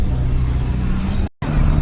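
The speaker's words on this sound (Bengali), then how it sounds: "এই যে বাস চলো ছেড়ে দিল।" A bus pulls away on a pilgrimage trip to Gangasagar, a deep, steady engine rumble close by with a brief cut-out midway, faint voices in the background.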